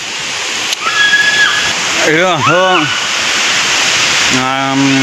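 A waterfall pours down from a hilltop in a constant, loud rushing roar, while a person speaks briefly over it and short tonal sounds come and go.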